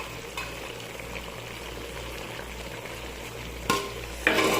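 Chicken coated in garlic-ginger-green chilli paste frying in a pan for a biryani, a steady soft sizzle throughout with a couple of louder bursts of stirring near the end.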